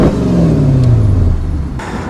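First-generation Porsche Cayenne S with a 4.5-liter V8, heard close and loud as the engine note sweeps steadily downward in pitch while decelerating, followed by a brief burst of rushing noise.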